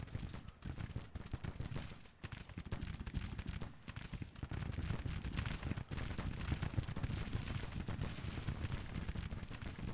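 Rolling gunfire and artillery booms from a Civil War battle in the strategy game Grand Tactician, a dense continuous barrage of overlapping shots and blasts at steady loudness with no talking.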